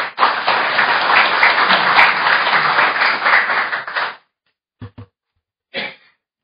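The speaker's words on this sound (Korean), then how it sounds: "큰 박수로 맞아주시기 바랍니다." Audience applause welcoming a speaker at a forum on unfair subcontracting in construction, a dense burst of clapping lasting about four seconds before stopping abruptly, followed by a few faint isolated sounds.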